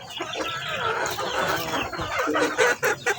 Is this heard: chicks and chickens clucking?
yes